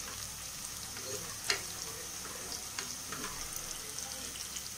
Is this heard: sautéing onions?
yes